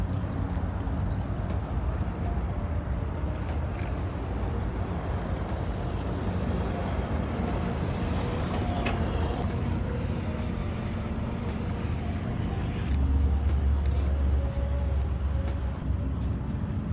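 A boat engine drones steadily on the water at Merritt Island, swelling slightly toward the end as it passes, with wind noise throughout.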